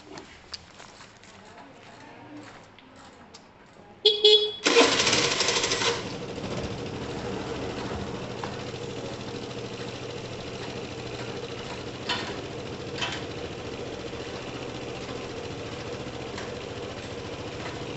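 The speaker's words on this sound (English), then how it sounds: "Let's see if it starts." A motorcycle engine cranks briefly, then catches and settles into a steady, rattling idle that runs on with a few small revs.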